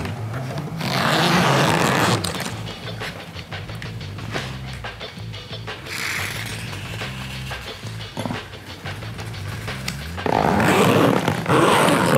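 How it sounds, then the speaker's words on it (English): A zipper on a flexible duct or fabric enclosure is pulled in a few loud, rasping strokes near the start and again near the end, with quieter rustling between. "Zip it back here."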